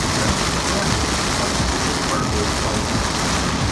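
Heavy rain near Penrith, England makes a loud, unbroken roar that stays level throughout.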